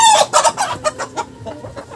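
Heritage chickens clucking close by after eating alternative feed, a quick run of sharp clucks and squawks that fades into softer, sparser calls.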